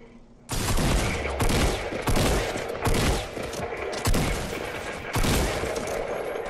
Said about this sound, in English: What the fuck are you shooting that for?